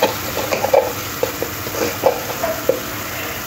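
Spiced masala with tomato, turmeric added, stirred and fried in a pan for a vegetarian ridge gourd curry, with soft intermittent scraping taps and faint sizzling close by.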